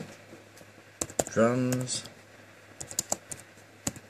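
Clicks of typing on a computer keyboard come in short bursts around a voice, which speaks briefly in the middle, all close and fairly quiet.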